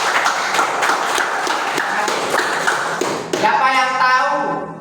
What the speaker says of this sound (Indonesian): Coba tepuk tangan untuk Jessica